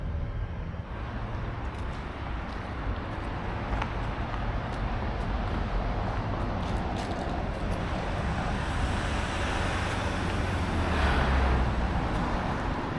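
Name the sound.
road traffic and trucks going by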